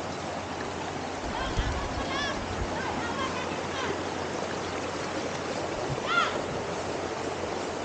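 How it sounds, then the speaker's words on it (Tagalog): A small creek flows in a steady, noisy rush close by on a farm, with a few faint voices and brief chirps over the water. "Inera ang tubig sa sapa."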